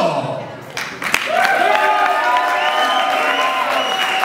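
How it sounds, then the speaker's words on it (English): Wedding guests at a reception break into loud applause and cheering with whoops after an announcement, a dense crowd roar building and holding steady nearby. "a big round of applause for the one and only Howard Finkel one more time"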